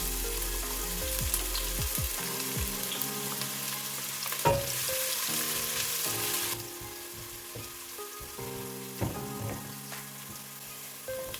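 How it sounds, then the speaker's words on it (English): Onions go into hot oil for a Kenyan chicken feet dish and fry with a loud, close, steady sizzle, broken by a few scraping stirs and a short clack, with no talking. "and now you can add the onions"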